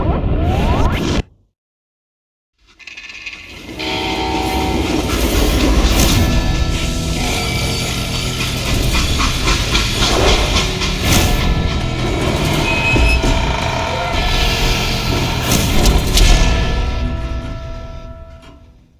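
Train in the Call of Juarez: Gunslinger video game, a brief sound cut to silence, then a loud sustained rumbling rush with rattling and whooshing that swells and holds to the end.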